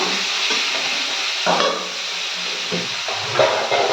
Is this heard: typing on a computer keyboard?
no